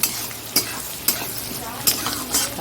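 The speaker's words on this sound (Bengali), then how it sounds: "আর পেঁয়াজটা একটু ভাজা হোক" Food sizzles steadily in a hot pan while a utensil stirs and scrapes against it in several sharp strokes, close up and without speech.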